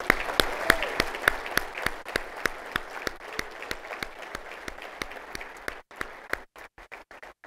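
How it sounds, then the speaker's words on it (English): Sustained applause from a convention audience at the NAIA National Convention general session, with sharp individual claps standing out. It fades into a few last sparse claps near the end. "join me in giving them a round of applause."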